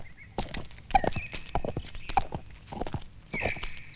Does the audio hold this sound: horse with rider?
yes